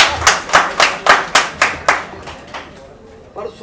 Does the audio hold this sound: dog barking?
no